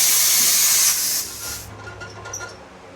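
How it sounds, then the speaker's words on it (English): Air suspension on a rat rod build inflates with a loud, steady hiss of rushing air that fades after about a second, then gives way to quieter clunks and creaks. "We're gonna air her up, air her down, see how she looks."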